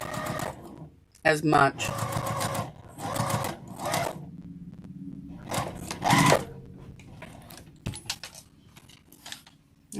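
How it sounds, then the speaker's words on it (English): A sewing machine runs in rapid bursts of stitching along a zipper pouch, with short pauses between runs, light metallic clinks, and someone speaking briefly over the whirring needle. "And I'm just going to sew right along there."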